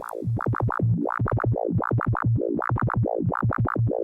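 Make Noise BRENSO synthesizer tone run through wave-shaping distortion and swept by an LFO, a loud buzzing pitch that swoops up and down in quick, even cycles, alone with no voice.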